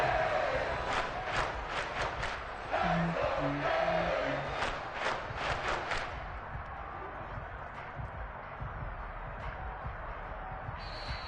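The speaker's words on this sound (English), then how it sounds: "the crowd getting into it as we come up on a big third down" A stadium crowd roars and cheers in the Madden 23 football video game ahead of a big third down, loud and steady for the first half, then settling to a lower, sustained murmur.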